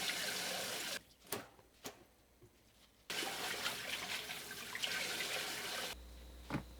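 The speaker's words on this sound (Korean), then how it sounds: "준비한 봄나물을 흐르는 물로 씻어주세요" Tap water runs steadily over spring greens such as aralia shoots and broccoli florets in a sink, a continuous splashing rush broken by a brief pause and a few drips before the flow resumes.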